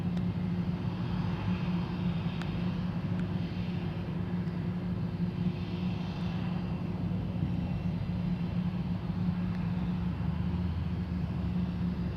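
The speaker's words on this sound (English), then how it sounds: "Hydraulic systems operating those big brakes." An airliner braking hard on the runway after landing with ground spoilers raised, a steady broad roar of engines and rolling wheels, distant and constant throughout.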